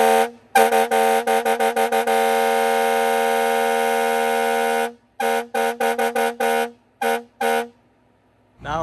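A loud, sustained fire truck air horn blares for several seconds, then cuts into a series of short rhythmic blasts, with no talking.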